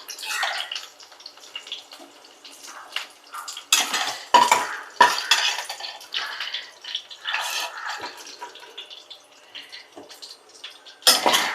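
Oil being strained off fried mutton curry masala brings intermittent clinks and scrapes of utensils against pans, with soft liquid trickles between sharper knocks, close by and uneven in rhythm.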